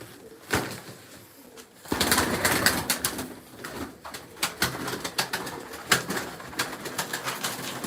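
Pigeons, including a yellow male, coo in soft repeated calls, punctuated by sharp clicks and brief flutters, moderately close and without talk.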